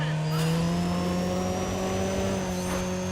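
A turbocharged 2-litre four-cylinder race car in a street-racing video game screams at high revs, a loud sustained engine whine with strong steady harmonics and no one speaking.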